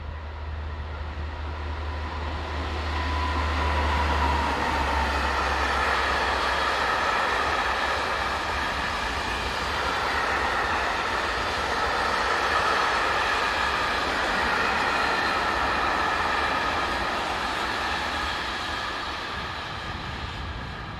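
A Colas G1206 diesel locomotive hauls a train of empty stone wagons past, giving a steady, loud rolling rumble with continuous wheel and wagon noise for the whole stretch, no voices.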